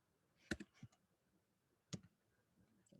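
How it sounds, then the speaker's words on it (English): Computer keyboard keys struck in a few sparse clicks, two clusters about a second and a half apart, quiet and close in an otherwise still room. "Just typing."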